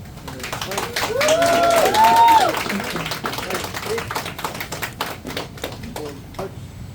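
Audience applause follows the national anthem at an outdoor Homes for Our Troops ceremony in Howell, New Jersey: a steady patter of many hands clapping, swelling near the start and then thinning out, with some voices and background tones mixed in.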